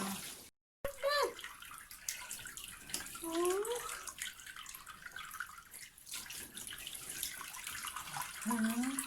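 Water splashes and pours steadily over a newborn baby in a home bath, running close by while an adult speaks softly and the baby makes small cooing sounds.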